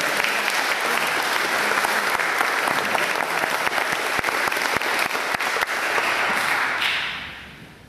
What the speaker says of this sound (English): Can we give him a little free applause before we get there?